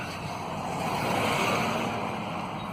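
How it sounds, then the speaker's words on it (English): A truck drives past nearby, a broad steady engine and road roar that swells slightly mid-pass and then eases, with no voices over it. "It'll be this truck."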